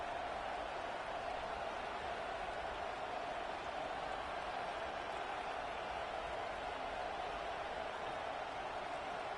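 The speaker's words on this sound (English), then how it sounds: "And here comes the noise. This crowd is trying to inspire this defense to make a big red zone stop." A steady, dense stadium crowd roar rises in a college football video game during a red zone defensive stand, constant and unbroken throughout, with no clear cheers or claps standing out.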